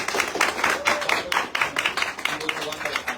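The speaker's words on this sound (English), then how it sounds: "Give a great applause." Audience applauding guest doctors at a gathering, a burst of dense hand clapping that rises and falls in waves, fairly close and loud throughout.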